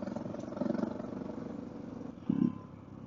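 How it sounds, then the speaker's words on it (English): Suzuki DR650 dual-sport motorcycle running through its quiet, heavy stock muffler on a National Forest ride; a low, muffled engine drone with light mechanical clatter and two brief surges in level, no talking. "Now, these mufflers that came on this thing, they are quiet and heavy."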